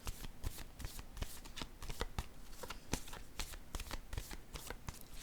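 Tarot cards handled close up during a reading, a quick run of crisp riffling snaps and soft slaps as cards are shuffled and laid down, fairly quiet.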